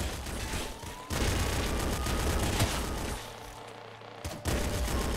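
Infinity Slugger firing in Nuclear Throne, a dense, continuous barrage of loud blasts and explosions with a brief dip in the middle and no talk.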